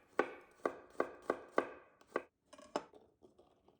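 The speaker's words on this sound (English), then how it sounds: "Slice the garlic thinly." A knife slicing garlic thinly on a cutting board, a steady series of about ten crisp, close taps that quicken and soften toward the end, quiet and with no talking.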